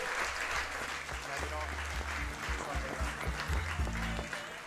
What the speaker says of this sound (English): how about a round of applause for Ōtāhuhu and Bears in the grand final.